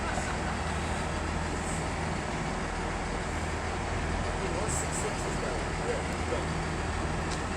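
A Class 165 diesel train pulls out of Swindon station in Wiltshire with a steady, continuous engine rumble and rail noise heard from the platform, and a couple of faint higher clanks near the end.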